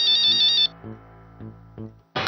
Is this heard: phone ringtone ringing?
yes